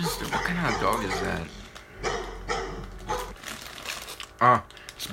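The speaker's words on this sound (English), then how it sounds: "It's barking at the camera." A dog barks at a camera in a few sharp, close bursts, interspersed with people talking and some crinkling noise.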